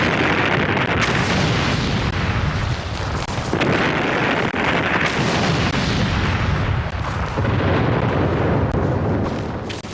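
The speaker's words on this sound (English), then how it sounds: "For 7 days and 7 nights, the ground shook under the constant impact of light and heavy shells." Heavy WWI artillery bombardment with light and heavy shells exploding in a continuous, loud, dense barrage of booms and rumbling blasts, sustained for the whole stretch with no pauses.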